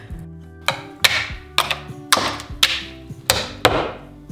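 A hammer knocks a cast epoxy river paddle loose from its mold, with stuck scrap wood glued in place: about seven sharp, ringing wooden whacks land at a fairly regular pace, close and loud, with nothing else heard between them.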